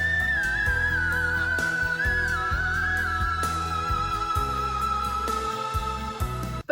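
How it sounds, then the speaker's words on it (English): A singer sings live on Wish 107.5, climbing into high, clear, sustained whistle-register notes that waver slightly over steady band accompaniment, loud and close throughout. "she gets into these crazy whistle notes"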